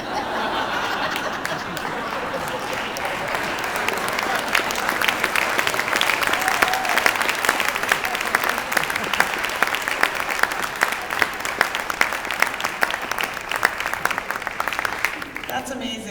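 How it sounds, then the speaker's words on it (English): Audience applause with scattered laughter fills the room at a school student talk on learning and laptops, a steady dense clapping that swells slightly and continues for about sixteen seconds. "give these guys a big round of applause"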